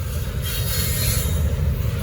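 A Norfolk Southern train rolls past in Gaffney, South Carolina, close and loud, with a steady low rumble of railcars and wheel noise running unbroken throughout.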